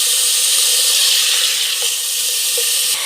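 Chopped onions and tomatoes hit hot oil with ginger paste in a pan while mutton dum is cooked, producing a loud, continuous bright sizzle and hiss with small pops, close up and steady throughout.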